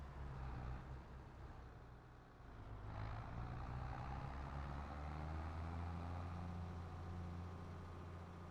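A tractor engine in Farming Simulator 22 runs at a steady, close low rumble with a constant hum, a brief dip partway through, then a continuous, even drone with no talking.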